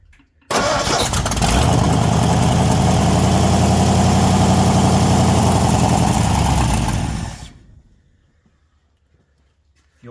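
A 1959 Ford F-100 4x4 pickup, revived after sitting for 30 years, cranks and runs for about seven seconds as a loud, steady engine roar close by, then cuts off abruptly into near silence.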